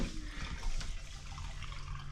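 Water gurgling down the bathtub drain in a camper in Japan, a steady rushing drain sound with a swell partway through, close and moderately loud, no voices.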